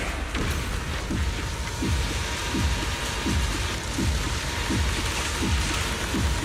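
A dense, constant wash of rain in a ZZZ boss fight, with a repeating low swooping pulse roughly every two-thirds of a second underneath. Loud and steady, with no voices.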